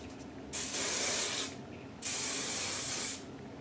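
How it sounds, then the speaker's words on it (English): An aerosol can of flexible-hold hairspray hisses out two steady sprays, each about a second long with a short pause between, close by. "I'm gonna spray it with a flexible hold hairspray."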